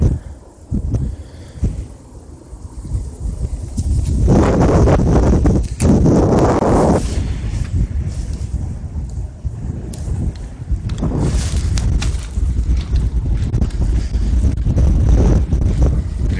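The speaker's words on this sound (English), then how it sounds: "Having non-stop wind for weeks, for the last 2 months. It's just wind every single day." Strong, continuous wind blowing across Belle Isle Marsh, loud and close, buffeting the microphone with rumbling gusts that swell and ease throughout.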